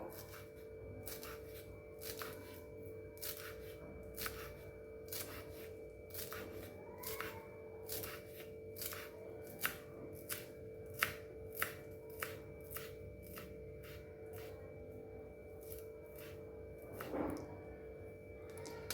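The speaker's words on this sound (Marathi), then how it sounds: "आपण आता कोथिंबीर छान अशी बारीक कट करून घ्यायची" Coriander leaves being finely chopped with a knife: a long run of quick, soft, evenly spaced taps against a board, with a faint steady hum behind them.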